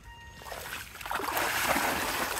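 People wading through shallow floodwater while hunting for small fish, with soft, continuous splashing and sloshing close by, growing busier and denser toward the end.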